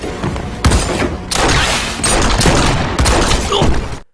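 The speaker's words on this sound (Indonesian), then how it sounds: "aksi saling menembak pun kembali terjadi" A dense, loud exchange of gunfire in an action film, including a sniper's shots, with overlapping sharp bangs and booming impacts in rapid bursts that continue throughout before cutting off abruptly.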